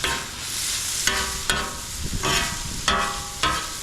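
Steak and vegetables sizzle loudly on a Blackstone griddle, with a continuous fry punctuated by several sharp spatula scrapes and tosses as the meat is combined with the veggies.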